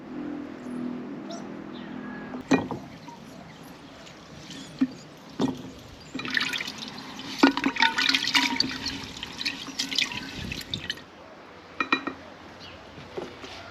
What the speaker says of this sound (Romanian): Și amestecăm până dizolvăm zahărul.